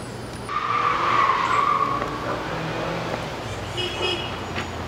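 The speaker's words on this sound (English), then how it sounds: "no, it's just somebody drag racing." Tires skid and squeal from a nearby drag-racing car, a sustained screech rising loudly then easing off over steady road and engine noise, with no talk.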